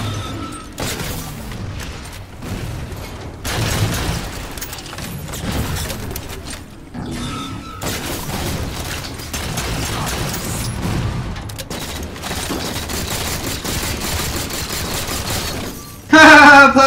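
Gunfire and energy-weapon shots in a Halo 4 multiplayer match, with bursts of firing, impacts and mechanical clatter running nearly continuously, ending in a sudden loud blast.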